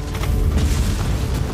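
A deep, rumbling boom from explosions on hits in Warhammer 40000: Inquisitor - Martyr, loud and sustained with a dense low-end roar and no clear separate impacts.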